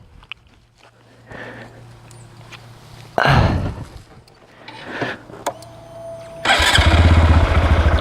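A Honda Grom motorcycle is heard as it starts up: a starter whine, then the small engine catches and settles into a loud, steady idle burble at close range.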